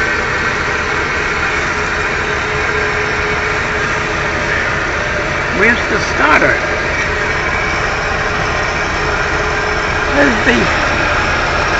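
A car engine idles steadily, a loud continuous rumble filling the whole stretch, with a few brief clanks or rattles close by and a single spoken word.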